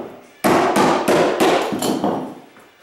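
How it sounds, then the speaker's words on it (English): A hammer drives nails into carpet tack strip along a baseboard, with about six loud, evenly spaced strikes close by, each ringing briefly before the next blow. "they gotta be careful when they're hammering it down"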